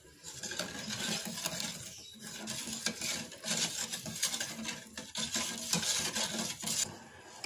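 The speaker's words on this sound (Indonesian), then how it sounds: "lalu kita masak bahan-bahan ini sambil terus diaduk-aduk" A spoon scrapes and stirs pudding mixture in a pot on the stove, giving an irregular run of close, rasping, clattering strokes that continues without talking.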